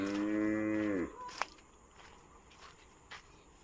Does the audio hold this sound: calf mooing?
yes